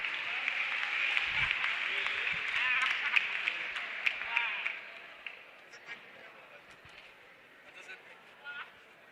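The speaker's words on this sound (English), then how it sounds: "A round of applause for that." Crowd applause at a campus community safety forum held at a college, with loud clapping in the first half that fades into scattered claps and quieter room noise.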